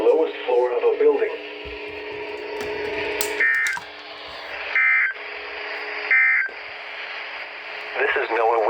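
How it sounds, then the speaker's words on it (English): A First Alert WR-100 weather radio gives NOAA emergency alert tones, short bursts of steady electronic tone repeating at intervals under a synthetic broadcast voice reading a warning. "This is NOAA Weather Radio Station KIG 98 broadcasting on"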